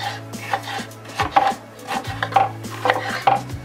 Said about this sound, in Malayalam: നമുക്കിനി ബാക്കിയുള്ള ക്യാപ്സിക്കവും അരിഞ്ഞെടുക്കാം.